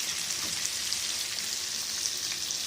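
Brinjal frying in oil for a tamarind kuzhambu curry, a steady, close, bright sizzle with soft crackling that holds evenly throughout with no talk.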